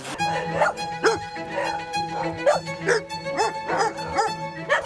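A dog barks repeatedly in quick, yappy bursts close by, with whimpering in between and faint voices in the background.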